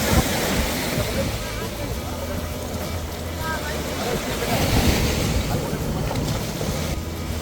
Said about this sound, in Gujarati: ત્યાં મોજા આવે છે.